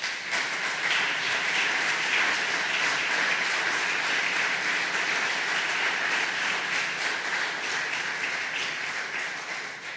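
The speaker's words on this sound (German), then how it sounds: "ich bitte um großen Applaus für Wolfgang Thierse" Sustained, even applause fills the hall at the Politischer Club in Tutzing as Wolfgang Thierse is welcomed, a dense wash of many hands clapping steadily for ten seconds before easing slightly at the end.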